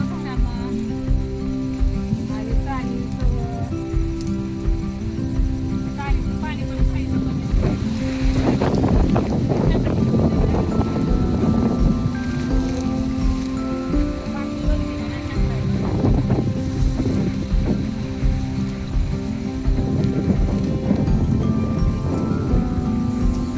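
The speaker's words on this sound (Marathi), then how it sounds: "वारं तर बघा किती सुटले जणू काय सिंहासारखंच घरजना चालल्यात वाऱ्याच्या" Strong wind roars continuously into the microphone on a farm field, a heavy low rumble with surging gusts, while a person speaks over it throughout.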